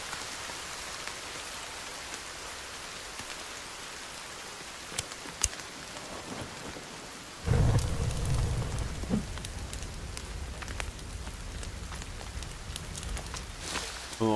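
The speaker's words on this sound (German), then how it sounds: "Juhu, es regnet, die Erde wird nass" Rain falls in the survival game The Forest, starting as a faint hiss of drops, then swelling abruptly into a steady, louder downpour pattering on surfaces, with no talk.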